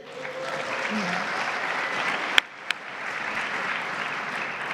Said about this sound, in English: he definitely deserves the applause